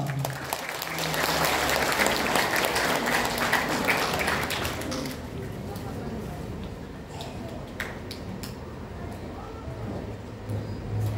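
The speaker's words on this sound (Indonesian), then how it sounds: "Mari kita sambut dan tepuk tangan yang meriah untuk Ayah Irwan." Seminar audience clapping to welcome the speaker at a parenting seminar, loud steady applause for about five seconds before thinning into scattered claps and room murmur.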